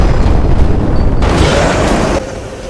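Explosion in GTA 5: a loud, dense boom rumbles throughout, with a burst of bright crackling debris midway before the blast tail drops off near the end, with no voices.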